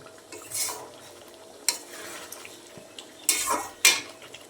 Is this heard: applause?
no